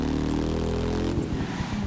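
A Harley-Davidson motorcycle engine in the video game The Crew 2 hums steadily at a low pitch, then drops into a choppy, sputtering rumble as the throttle eases off, loud and close.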